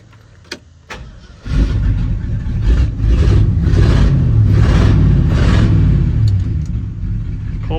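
A car engine cranks after a couple of faint clicks, then catches on a cold start with a cold manifold and settles into a loud, steady, close rumble that gently rises and falls in pitch as it idles.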